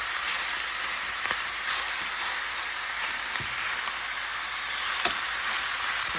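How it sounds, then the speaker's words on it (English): Black Angus country-style beef ribs sear in a hot pan, giving a steady, close, bright sizzle and hiss with a few faint pops and no talking. "I'm going to let them sear a little bit more on this side."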